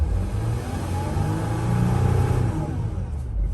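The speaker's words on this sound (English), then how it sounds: "Let's try to rev it." Mercedes Sprinter NCV3 van engine revving after repairs for a P0299 underboost fault, a loud close rumble that rises and holds for a few seconds before easing off.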